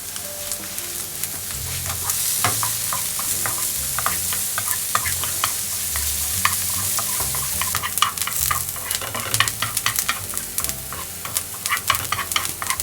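Onions frying in olive oil in a frying pan, a continuous bright sizzle with frequent crackles and pops and occasional stirring scrapes, close and loud throughout, with no talking.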